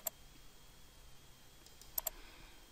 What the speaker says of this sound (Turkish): Sol tuşla bir kere herhangi birinin üzerine tıklıyorum